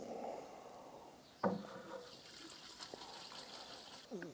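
Five hundred grams of compost tip into warm water for homemade compost tea, a soft pouring splash with a brief heavier gush midway, faint and close over a quiet trickle.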